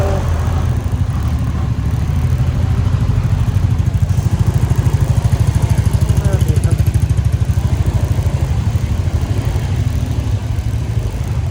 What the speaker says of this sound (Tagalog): Ayusin natin yung motor.